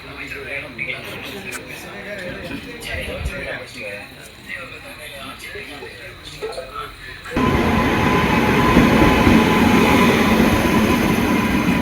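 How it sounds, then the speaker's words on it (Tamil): A train rolls into a single-track station with a low rumble and rising roar that suddenly grows louder, under people talking nearby. "அடுத்து 6:30 தான் ட்ரெயின் வந்துச்சு."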